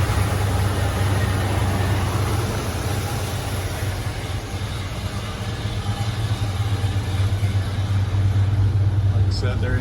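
A 1978 Ford Bronco engine idles steadily with a low, smooth rumble that holds even and unbroken throughout, with no revving.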